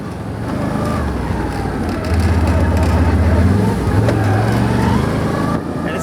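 A 2018 Can-Am XT1000R four-wheeler with winch and power steering rolls along, its engine a loud low drone that rises and steadies as it drives, close and continuous.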